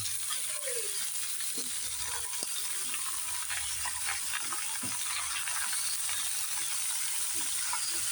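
Pork frying in a pan for pork menudo alongside carrots and potatoes, a constant hissing sizzle with scattered clinks and scrapes of utensils, close and steady, no talk over it.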